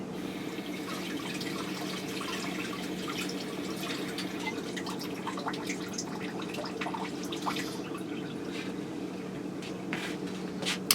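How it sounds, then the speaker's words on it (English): Tap water runs steadily into a kitchen sink while hands are washed, a continuous gentle splashing with scattered drips and small clatters, close by and fairly quiet. "Let me wash my hands."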